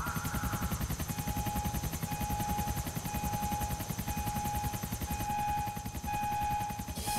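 A helicopter in the video game GTA 4: The Lost and Damned keeps up a steady, rapid rotor chop throughout, with a whining engine tone held underneath.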